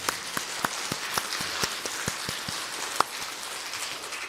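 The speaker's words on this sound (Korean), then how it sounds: "그 성령님께 우리 감사 박수 한번 할까요?" Congregation clapping in a Korean church service, a scattered, steady patter of hand claps filling the room at moderate level with no talk over it.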